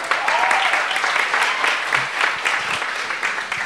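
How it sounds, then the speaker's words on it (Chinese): A church congregation at a Saturday worship service claps in steady, dense applause for a sharer, loud and continuous throughout with a faint voice or two underneath. "我们给他掌声拍手一下"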